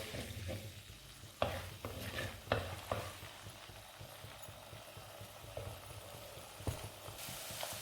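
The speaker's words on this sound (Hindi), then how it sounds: "अब इसमें लहसुन अदरक डाल देते हैं, हल्का सा भून लेंगे इसको" Garlic and ginger frying in hot oil in a handi pot, a quiet, steady sizzle with occasional knocks and scrapes of a stirring spoon, faint and close, no speech.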